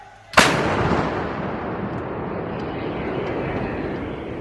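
A howitzer fires during a Marine Corps live-fire exercise, a single sharp, loud blast followed by a long rumbling roar that slowly fades, with no talk.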